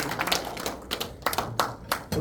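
An audience at a literary society seminar claps by hand after a trot music performance, a brief scattered round of applause heard close up with some voices mixed in.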